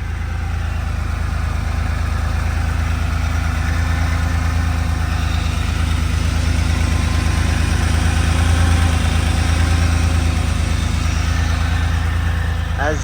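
A 1987 Porsche 930 Turbo engine idles steadily with a low, continuous rumble and slight mechanical chatter, close by and unchanging throughout.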